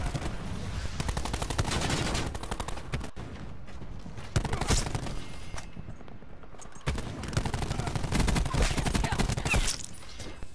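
Rapid bursts of automatic gunfire in a first-person shooter video game, dense rattling volleys broken by short pauses, loud and close.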